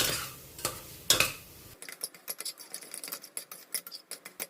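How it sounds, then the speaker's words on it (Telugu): A spoon stirs masala spices frying in a pan for chole, making repeated scraping, clinking strokes in an irregular rhythm, close and moderately loud, with a soft sizzle under them. "ఇవన్నీ వేసిన తర్వాత దీన్ని కొంచెం బాగా కలిపేయాలి, మసాలాలన్నీ వేగేటట్టు."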